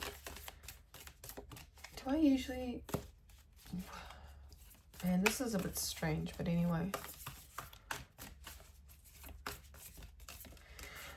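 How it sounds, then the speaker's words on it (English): Tarot cards are shuffled in quick, soft bursts of riffling and tapping, faint clicks scattered under a person who speaks briefly between pauses. "Okay, let's continue shuffling."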